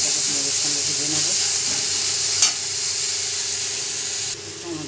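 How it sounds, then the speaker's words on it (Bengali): Chopped tomato frying with onion in a pan, a steady loud hiss of sizzling close by, with a brief sharp flare midway and a quieter tail, while someone talks over it. "টমেটোটাকে পেঁয়াজের সঙ্গে ভেজে নেব।"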